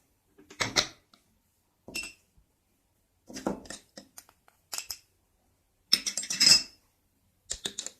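A vitamin C tablet is crushed to dissolve it, giving about six separate bursts of sharp, close grinding and cracking, separated by silence.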